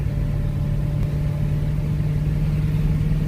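A car engine runs close by with a steady, mid-low drone that holds an even pitch throughout, with no clear rise of a rev and no voices.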